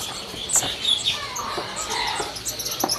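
Songbirds in cages at a kiosk in the Pramuka bird market, including anis kembang thrushes, give scattered high chirps and tweets, close and fairly loud over a low background murmur.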